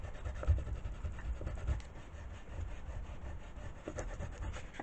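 An eraser rubs steadily back and forth over a cardboard gift box to remove pencil marks, a soft continuous scrubbing close by, with no voices.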